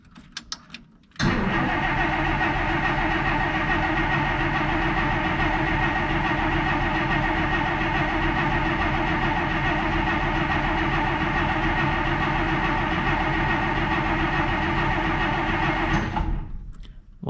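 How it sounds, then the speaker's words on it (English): A 1953 Plymouth Cranbrook with an empty carburetor cranking on the starter, a loud, continuous, evenly pulsing churn running about fifteen seconds without catching, then stopping abruptly. "Might take a bit of cranking because I ran it completely out of gas, so the carburetor's empty"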